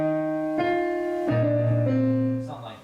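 Simplified piano Shin Gojira theme, played one octave in each hand: a few held low notes and octaves changing slowly, fading toward the end, with no voice.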